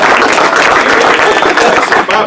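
Applause from a Rotary club meeting audience welcoming two new members, a dense steady wash of clapping that fills the whole stretch, loud and close, with some voices mixed in.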